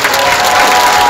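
Audience applause at a seminary lecture, a short loud dense burst of clapping that fills the moment with no one speaking over it.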